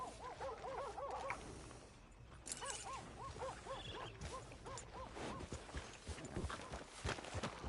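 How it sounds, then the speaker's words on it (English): Horse hooves clip-clop at a steady walking pace in the Red Dead Redemption 2 video game, mid-level and close, mixed with other game ambience and animal sounds. "Are you gonna mount that new horse of yours or not?"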